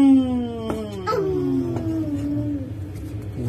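A person vocally imitates a dog howling, giving a drawn-out wavering howl that slides downward in pitch, loud and close, with a few short breaks. It is heard alone, with no other talk.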